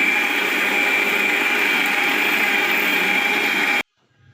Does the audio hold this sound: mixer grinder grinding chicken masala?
yes